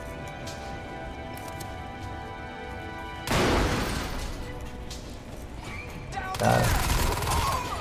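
Weapon fire in Crysis 2 breaks in abruptly after about three seconds, a dense, loud burst of shots with a second harder volley near six seconds, over steady game background and a brief voice.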